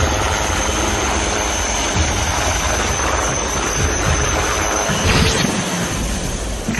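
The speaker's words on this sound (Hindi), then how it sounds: "एडवांस्ड लाइट हेलीकॉप्टर ध्रुव अकेला ऐसा हेलीकॉप्टर है जो सियाचिन की सबसे दूर मौजूद आर्मी" HAL Dhruv Advanced Light Helicopter engine and rotor, a continuous loud turbine whine with a constant high tone and a brief surge near the end, heard alone.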